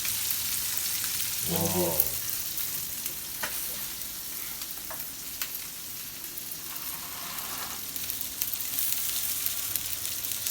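Mullet fish fry in hot oil at home with a steady, close sizzle and crackle throughout; a single voice exclaims briefly early on.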